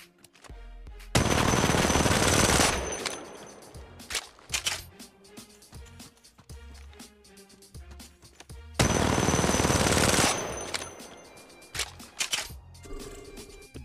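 R99 submachine gun in the mobile shooter Apex Legends Mobile, firing two long, loud sustained bursts with scattered shorter shots and game sounds between them, no talking.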